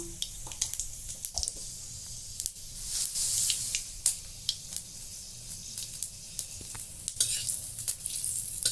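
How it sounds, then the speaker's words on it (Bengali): Panch phoron spices fry in oil with a bright, crackling sizzle, punctuated by frequent sharp pops and spatters and occasional stirring scrapes, fairly close and steady. "পাঁচ ফোড়নটা বেশ ভাজা ভাজা হয়ে গেছে"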